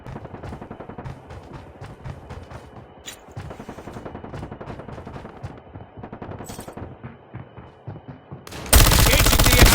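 Video game gunfire in a tournament match: rapid machine-gun bursts and scattered single shots crackle at moderate loudness, ending in a sudden loud burst of harsh noise.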